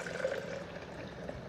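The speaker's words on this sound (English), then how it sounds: "Here I am going to pour in, of course, the amazing liquid." Liquid poured into a NutriBullet blender for horchata, a steady soft splashing stream that stays even and fairly faint from start to finish.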